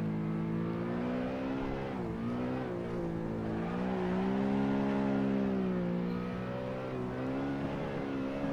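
A car engine holds a steady, droning tone while drifting in the Assetto Corsa racing game on a Scottish course, its pitch wavering slightly as the throttle shifts, continuous and close with no voices.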